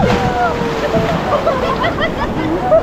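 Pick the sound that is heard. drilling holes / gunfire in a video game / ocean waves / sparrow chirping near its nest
ocean waves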